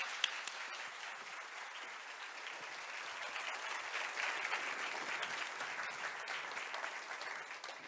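Audience applause fills a lecture hall as a distinguished professor, Kim Young-kee, is welcomed to the stage: dense, steady clapping from a large crowd, sustained at an even level throughout with no voices on top.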